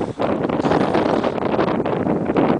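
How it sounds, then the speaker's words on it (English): Strong wind buffeting the microphone in a steady, loud roar with gusty surges throughout, in the New Jersey Pine Barrens. "Yeah, the wind's really blowing."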